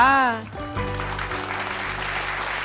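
A studio audience at a Kannada TV comedy show breaks into sustained, even applause after a brief voice at the start, the clapping steady and dense to the end.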